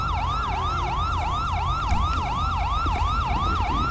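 Police sirens from a GTA V police patrol game wail in a steady, rapidly cycling yelp pattern, loud and continuous over a low rumble of traffic and engine noise.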